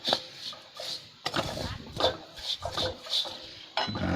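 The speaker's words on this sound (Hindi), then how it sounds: "थोड़ा इसको हिलाते हैं ऐसे।" Chiura (beaten rice) being stirred in a metal pan, a spoon scraping and clinking against the pan in a repeated rhythm of short, bright hits, close up.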